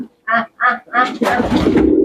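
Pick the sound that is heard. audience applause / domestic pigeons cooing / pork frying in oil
domestic pigeons cooing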